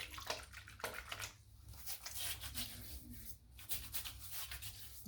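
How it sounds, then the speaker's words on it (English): Soaking water poured from a shaving-soap dish into cupped hands: a faint, close trickle and splash with light wet rubbing in a quiet room, no talking. "So I'm just going to pour the soaking water into my hands."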